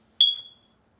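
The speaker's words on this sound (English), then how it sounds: "It's the smoke alarm." A single sharp, high-pitched chirp from a smoke alarm, sudden and loud, then fading away over about half a second in an otherwise quiet room.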